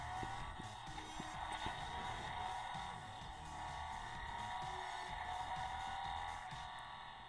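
SpinMaster Batman Batmobile toy plays an electronic engine sound effect, a steady tinny revving drone with a faint mechanical whir underneath, fairly quiet throughout.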